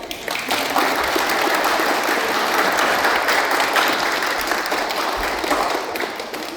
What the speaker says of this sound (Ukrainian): Поэтому давайте мы друг друга будем аплодировать.